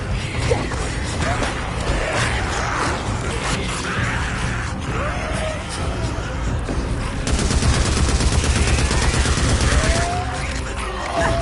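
Sustained rapid gunfire from the video game Days Gone, dense and loud, with bursts rolling continuously and growing more intense toward the end.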